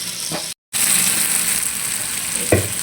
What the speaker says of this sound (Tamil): இப்போ பாருங்கள் நல்லா கொதிக்குது குழம்பு